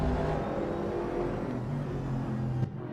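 A race car in a racing video game, heard from the cockpit: a fairly quiet, steady engine drone with shifting tonal whine, cutting off abruptly near the end.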